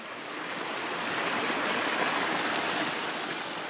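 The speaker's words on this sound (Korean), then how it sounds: "경쾌한 물소리가 텁텁한 머릿속을 씻어낸다" A clear mountain stream in the Andes flows steadily, a close, even rush of water that holds at a constant loudness for the whole stretch, with no voices over it.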